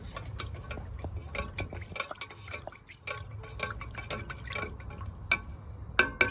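Lighter fluid poured onto petroleum jelly in a container for homemade fire starters, a faint wet trickle with scattered small drips and splashes over a low background rumble.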